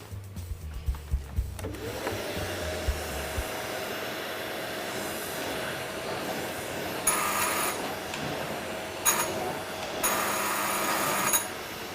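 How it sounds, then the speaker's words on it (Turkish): A vacuum cleaner starts up after a few knocks and runs with a steady, loud whine, with brief higher bursts from other sounds partway through. "Evet şimdi elektrik süpürgesini çalıştırıyorum."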